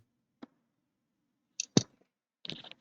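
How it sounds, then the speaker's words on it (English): A computer mouse clicks a few times at sparse, irregular intervals, sharp and fairly close in an otherwise quiet room. "We're just listening to Giga clicking."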